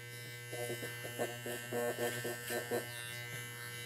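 Electric hair clippers cut hair during an old school pompadour men's haircut. A quiet, steady motor hum runs throughout, with short bursts of louder buzzing as the blade bites into hair.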